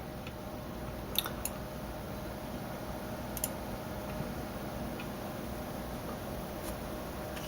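A steady, quiet whir of EVGA GTX 670 graphics card cooling fans at auto speed runs throughout, with a few faint ticking clicks scattered over the constant hum.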